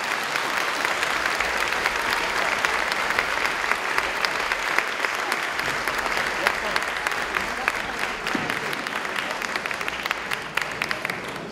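An audience applauds a performer at a concert with sustained, even clapping that fills the room for over ten seconds, with faint voices mixed into the crowd.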